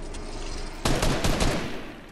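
A sudden burst of rapid video game gunfire cuts in after a quiet stretch, a loud close volley of several shots that trails off quickly.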